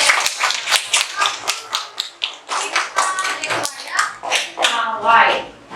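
A class of children claps together in a classroom, a rapid, dense run of sharp hand slaps at close range, loud and continuous with light voices mixed in.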